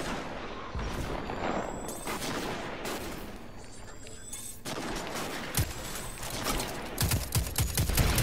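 Rapid gunfire from the video game Destiny 2 during a PvE fight against snipers and other enemies, with dense bursts of shots and impacts filling the scene, loud and continuous with heavier blasts near the end.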